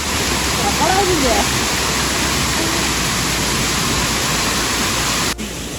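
Ezharakkund waterfall rushing as a steady, broadband roar of falling water, close and continuous, with a brief dip near the end.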